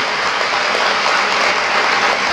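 Audience clapping loudly and continuously at a Marathi motivational talk, a dense steady wash of applause throughout with no gaps.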